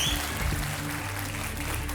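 A television game show studio audience claps in steady, fairly soft applause that continues evenly for a couple of seconds.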